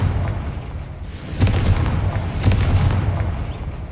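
A Confringo blasting spell explodes in the Hogwarts Legacy video game, giving deep booming bursts with sharp cracks near the middle and toward the end over a rumbling background.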